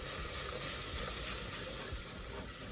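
Warm milk is poured gradually into a flour roux for béchamel, a steady close hiss and sizzle that stays even throughout, with no talking.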